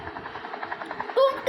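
A helicopter's rotor chops in a steady, rapid pulse, fairly close and continuous, with a brief sharp electronic tone near the end.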